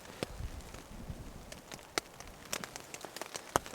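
Rain falling on a camping tarp, with scattered irregular drops tapping sharply against a soft steady background patter, fairly faint and close.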